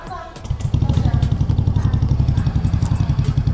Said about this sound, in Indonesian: sekarang saatnya mari kita dengar suara dari Yamaha Fazio ini